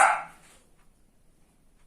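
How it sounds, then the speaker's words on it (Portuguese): A dog gives one sharp, loud bark right at the start, then the scene falls nearly silent. "Os cachorros tá bravo ali."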